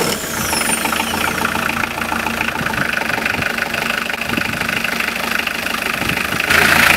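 A Volvo Penta D1/D2 marine diesel engine idles with a close, steady knocking chug that swells slightly louder near the end. No voices are heard.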